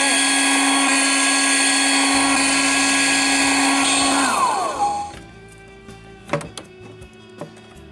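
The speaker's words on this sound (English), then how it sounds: "she takes her blow dryer and" A toy blow dryer from a 2013 Barbie three-story Dreamhouse whirs steadily with a high buzzing hum for about five seconds, then cuts off, leaving faint clicks and handling sounds.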